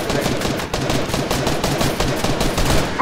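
Rapid, dense bursts of automatic gunfire crackle continuously during a Fortnite trio match as an enemy is gunned down, loud and close with no pauses.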